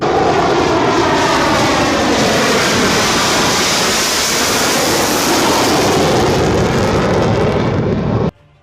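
MiG-21 fighter jet of the Indian Air Force, its engine roaring as a loud, steady broadband rush that holds for about eight seconds before cutting off abruptly.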